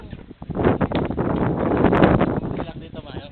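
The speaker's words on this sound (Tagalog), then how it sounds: "Malaki dito, malakas ang hangin" Strong wind buffets the microphone outdoors beside a mansion, a rough gusting rumble that rises and falls under people talking.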